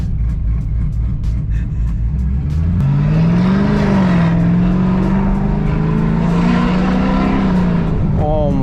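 A bright red V8 muscle car with a bigger supercharger revs hard at close range. A deep rumble rises into a loud sustained supercharger whine, and excited voices talk over it.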